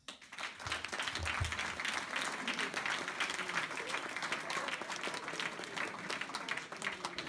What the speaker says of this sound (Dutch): graag had ik van jullie graag een applaus voor alle werken.